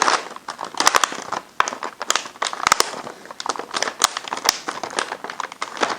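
Plastic meal bag crinkling and rustling as an oxygen absorber is packed into freeze-dried spaghetti with meat sauce, with close, irregular crackly bursts of handling.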